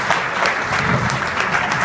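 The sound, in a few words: audience applause for departing coach Fabrice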